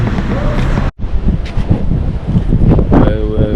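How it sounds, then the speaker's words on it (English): Strong morning wind outdoors buffets the microphone with loud, rough low rumbles in gusts, with one brief dropout near the start and faint voices mixed in beneath the blustering. "It's very windy. It's a windy morning"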